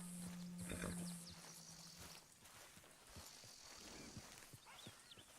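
A horse in a Western open-world game, its hooves clopping in an irregular walking rhythm close by, with a short whinny near the start, fairly quiet overall.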